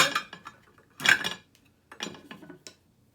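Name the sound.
mixing dry scone ingredients in a bowl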